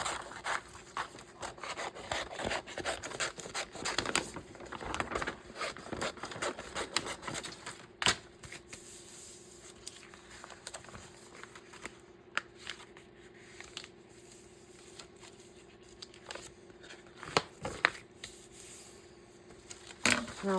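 Scissors cut through fabric with quiet, rasping snips and rustles, repeated irregularly and close by, while quilt pieces are trimmed to the edge for sewing.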